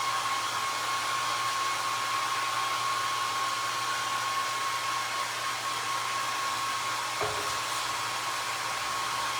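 Hair dryer blowing on a flower pot to dry it, a steady, moderately quiet whir with a constant tone that runs alone throughout.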